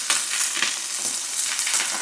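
Food sizzles steadily in a hot pan during a Japanese one-pot recipe, a loud continuous hiss with crackling pops throughout and no voices.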